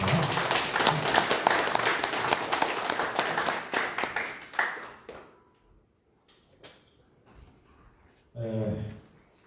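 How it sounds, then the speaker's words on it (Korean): An audience at a parliamentary academic forum in Korea claps loudly for several seconds, then the applause tapers off into scattered claps and quiet, before a voice starts talking near the end. "박수 한번 보내주시면 감사하겠습니다"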